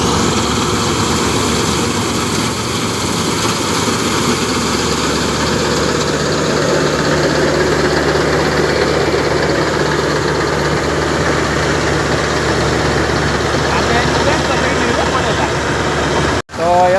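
A big combine harvester cutting a four-bigha wheat field, its engine a loud, steady droning rumble with a vibrating hum that holds unbroken until a sudden cutoff near the end.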